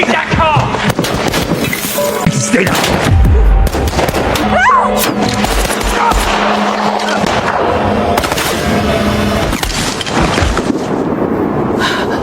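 Gunfire from armed robbers attacking a family in the film Greenland 2, with loud sharp shots and crashing blasts mixed into a dense, chaotic film soundtrack of engine rumble and action noise, with no clear speech.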